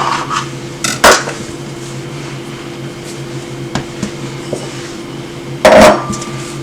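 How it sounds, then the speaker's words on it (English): A mixing bowl pressed down onto rolled pastry to cut a round lid for fish pie gives two sharp knocks of bowl against the board, one early and one near the end, over a steady kitchen hum. "put my bowl there to cut out the round shape"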